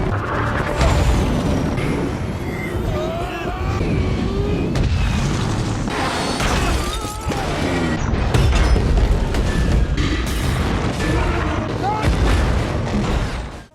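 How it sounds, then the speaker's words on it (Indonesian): Film scene where a truck rams an oil tank, flipping three trucks that blow up: sustained loud booming blasts and rumbling fire over a dense, roaring mix for the whole stretch. "Lu kemudian menabrakkan truknya ke tangki minyak, dan menyebabkan 3 truk milik Owen terbalik lalu meledak."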